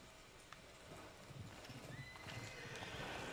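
Horse in Red Dead Redemption 2, with faint hoof clip-clops and a snort or whinny over soft outdoor game ambience, fairly quiet and building slightly toward the end, with no talking.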